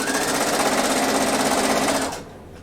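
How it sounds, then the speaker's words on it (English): A sewing machine runs steadily and loudly, stitching two sweater pieces together with a continuous fast whirring hum, then stops near the end leaving quiet room tone. "I'm just sewing with the two pieces."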